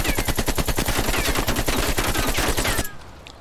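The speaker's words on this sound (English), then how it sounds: "This is the AK, which is a very, very good weapon." Rapid automatic fire from an AK assault rifle in Call of Duty Black Ops Cold War, a loud, steady burst of evenly spaced shots lasting nearly three seconds, then cutting off abruptly into a faint tail.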